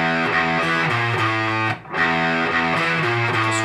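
A heavily distorted electric guitar plays a riff in a steady, repeating rhythm. It drops out for a brief gap midway, then picks back up, loud and close with no voices.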